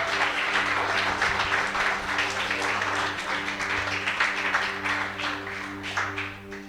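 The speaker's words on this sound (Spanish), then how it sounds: "Denle un aplauso al Señor." A church congregation applauds during a sermon series, with a steady patter of clapping over a sustained, humming organ or keyboard chord.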